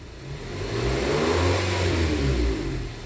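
A Nissan Livina engine revs up on the throttle and holds a steady, loud drone before easing off. It has a rising harmonic whine close to the car, and no one talks over it.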